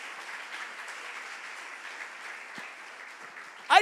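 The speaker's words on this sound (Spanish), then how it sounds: "Denle un aplauso al Señor" Church congregation applauding at a Spanish-language evangelical service, a steady low wash of clapping held at an even level throughout, with a brief louder burst at the very end.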